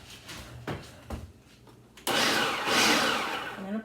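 Food processor chopping clams, a few short pulses first, then a longer loud whirring burst that runs to the end.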